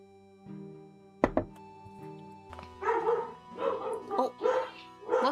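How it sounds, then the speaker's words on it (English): A dog barks near a streamer's microphone, first with a sharp thump, then a quick run of loud barks and yips in an irregular rhythm, with soft whimpering between them. "It's a little early for the barking."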